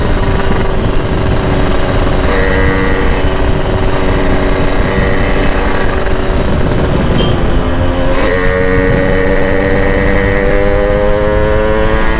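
A Yamaha RX King motorcycle engine drones loudly and steadily throughout, its pitch climbing gradually as it revs, with no voices over it.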